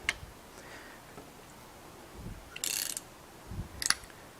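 A Ridgid 975 roll groover cranked by hand on a pipe, faint scattered mechanical clicks and ratcheting with two brief louder metallic scraping bursts, close but quiet with no talk.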